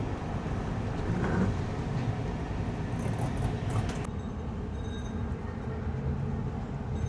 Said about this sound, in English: There's a little train going around and around.